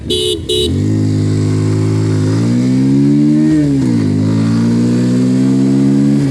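A Bajaj Pulsar 150 Twin Disc motorcycle gives two short horn honks, then its engine pulls away in first gear, revving steadily higher, loud and close throughout.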